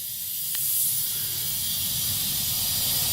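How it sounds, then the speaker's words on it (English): Compressed air from a compressor hose shot into an engine cylinder of an EVO9, a steady, sustained hiss with a faint rushing undertone, constant and fairly close, with no talk over it. "You put your compressor hose on."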